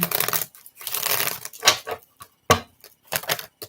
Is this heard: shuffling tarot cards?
yes